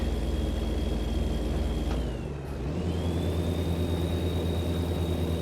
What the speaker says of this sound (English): You hear the turbos whistling away.